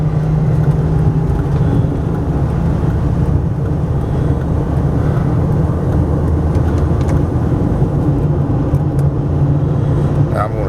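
A 2000 Winnebago Volkswagen Rialta 22HD Class B motorhome cruising down the road, with steady engine drone, road rumble and wind noise filling the cabin at a constant level throughout.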